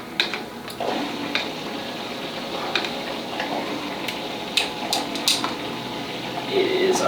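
Film developing chemicals stirred in a container, with light clinks and ticks of a utensil against the vessel, irregular and close, amid soft kitchen-like clatter.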